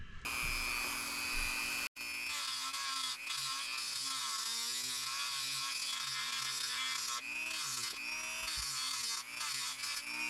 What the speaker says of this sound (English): Some extra metal there that needs to come out. I'm going to try to get my Dremel to take that out.